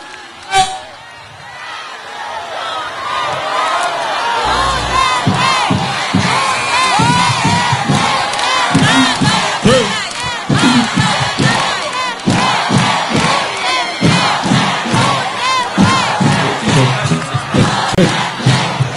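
A dense, loud crowd at a prayer rally in Tagum City cheers and chants for President Rodrigo Duterte, rhythmic rising shouts continuing steadily across the whole stretch, packed and close.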